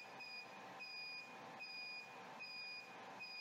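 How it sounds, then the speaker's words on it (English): A Megger DLRO100 resistance tester beeps during a remote test from a PC, giving a faint, evenly repeating series of short high beeps over a low background hum. "you might hear some beeping sounds because of the remote operation"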